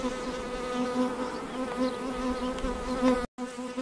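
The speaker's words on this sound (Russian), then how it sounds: "И много пчел сидит на прилетной доске" Honey bees at an apiary on a +36°C day hum in a dense, continuous drone around the hives and their landing boards. The close, steady buzz has individual bees passing nearby.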